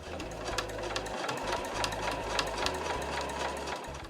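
A home sewing machine runs steadily while stitching a fabric key case, its needle motor humming and chattering close up in continuous bursts with short pauses between runs.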